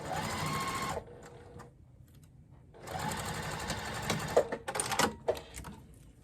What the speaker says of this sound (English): And I like to back stitch.